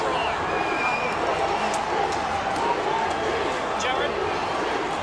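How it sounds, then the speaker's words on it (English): Crowd roaring at a 2017 ISC rugby league grand final between the Hunters and Falcons: a dense, steady wall of stadium noise with commentators' voices over it. "The crowd has gone up."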